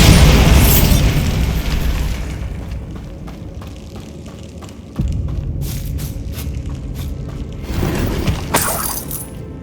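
A Bombarda blasting spell in Hogwarts Legacy sets off a loud booming explosion that decays into rumbling debris and scattered crackles, followed by a second burst of crackling sparks toward the end.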